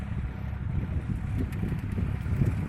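Steady cool wind blowing across the microphone over farm fields during sowing, a constant rumbling rush with no voices.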